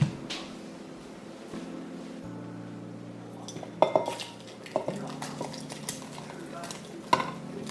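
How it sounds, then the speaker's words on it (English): A spatula stirs tomato egg-drop soup in a pot after the heat is turned off, giving a few scattered clinks and scrapes against the pot over a low steady background hum, with no talking. "use the spatula to stir it a little bit"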